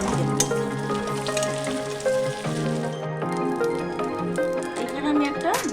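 Dried red chillies, bay leaves and cumin seeds frying in hot oil as a tempering for cabbage ghonto, a steady close sizzle and crackle throughout, with a voice talking over it.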